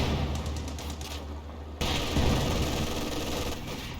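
An MG42 machine gun fires in a World War II video game, a continuous rapid ripping burst that runs throughout with steady loud density and a sharp jump in intensity partway through, with engine rumble mixed in.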